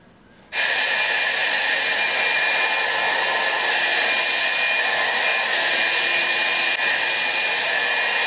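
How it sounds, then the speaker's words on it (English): A hair dryer blows steadily and loudly at close range, switching on after half a second and running without a break as a man's short hair is dried with fingers pushed back through it. "So literally all you're gonna do is dry your hair"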